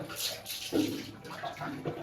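Water pouring and splashing over a dog during a bath, a steady wet rush that swells briefly near the middle, with faint voices in the background.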